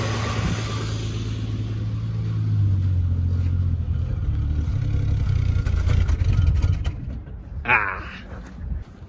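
A 1968 Dodge Dart engine runs steadily at idle with a loud, low rumble, rising briefly, then sputters and dies as the fuel runs out, leaving a short clatter at the end.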